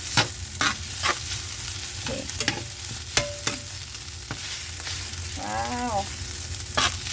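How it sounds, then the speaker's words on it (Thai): Egg fried rice with young chillies stir-fried in a wok: constant loud sizzling with repeated scraping and tossing strokes of a spatula, and one brief squeak midway. "เสียงกระทะ"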